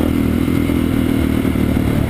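A motorcycle engine drones loud and steady at close range, a dense rumble with rattling clatter and no clear rise in pitch.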